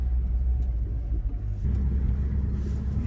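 A 1993 Eagle Talon AWD turbo car on its first drive after a transmission rebuild runs with a steady, close low rumble that rises and thickens partway through, sounding slightly rough.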